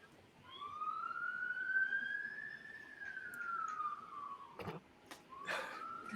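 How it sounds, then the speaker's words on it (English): An ambulance siren wails in a long rising and falling sweep, moderately distant, then breaks into shorter tones near the end over low background noise. "And there's an ambulance."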